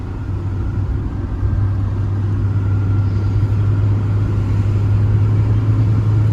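A car in second gear engine braking on a winding road, with a steady low engine drone and rumble throughout, loud and continuous with no voices.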